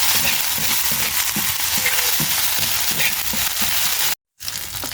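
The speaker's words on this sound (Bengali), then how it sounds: "ভালোভাবে নেড়ে যখন ভাজা হয়ে যাবে" Onion and garlic fry in hot oil, a dense steady sizzle with soft scraping from stirring, loud and close, broken by a brief cut near the end.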